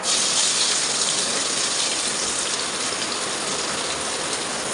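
Sliced onions hitting hot oil in a pot for mutton biryani, a loud, dense, steady sizzling roar that stays close and continuous for the whole stretch.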